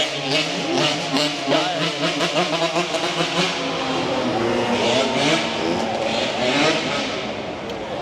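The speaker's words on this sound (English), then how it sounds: "Guy doing a wheelie on a motorcycle." A motorcycle engine revs loudly as the rider pulls a wheelie on a busy Waikiki street at night, the rising and falling rasp passing close by amid traffic noise.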